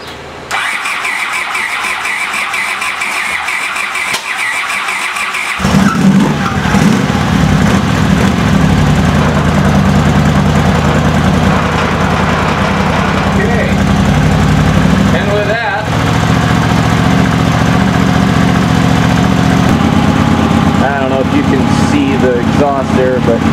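A Honda CX500 motorcycle engine on a weak battery cranks, catches and runs, settling into a loud, steady rumbling idle with slight revving for the rest of the stretch, close by.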